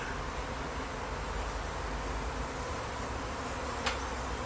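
Honeybees buzzing densely around an open hive while frames are handled, a continuous close drone filling the scene with a faint click near the end.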